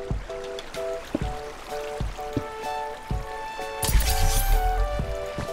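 Water pouring and streaming in a video game while a quarry is drained, a steady trickling flow with repeated tonal game chimes and soft thumps, swelling into a louder gush near the end.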